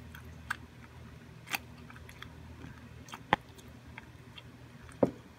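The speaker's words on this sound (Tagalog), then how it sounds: "Yung tunog na ano siya? Malutong-latong." Crisp fried Nagasaki sara udon noodles being bitten and chewed, giving a few sharp, close crunches spaced over several seconds against a quiet room background.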